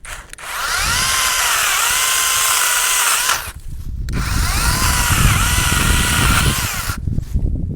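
Mini chainsaw cutting through a 1-inch branch: a loud, close, high buzzing whine that runs steadily for about three seconds, pauses briefly, then runs again for another three seconds.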